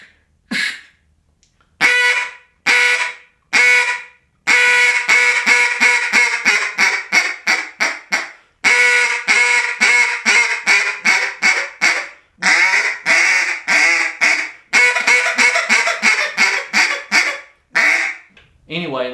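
A duck call blown with hot air and a short grunt at the start of each note, giving loud, close quacking runs of rapid rhythmic bursts with brief pauses between the sequences.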